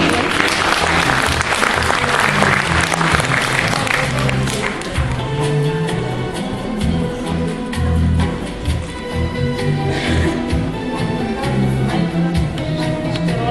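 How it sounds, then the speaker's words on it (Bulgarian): Audience applause at a film festival ceremony, a dense burst of many clapping hands that thins into scattered claps over a steady background din, continuing throughout with no clear voices over it. "Аплодисменти!"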